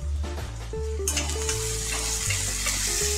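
Onion frying with half a spoon of salt in a pan on the stove, a close, steady sizzle with stirring scrapes over a low hum, no voices.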